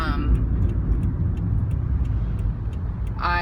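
Road noise heard from inside a moving car in traffic gives a steady low rumble throughout, with soft ticking like a turn signal and a voice at the end.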